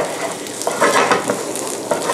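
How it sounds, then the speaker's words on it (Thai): Cooked rice stir-fried over high heat in a wok for Thai green curry fried rice with snakehead fish, with a steady loud sizzle and scraping stirs rising in short bursts, with no talking. "หลังจากนั้นผมเอาข้าวลงผัดเลย"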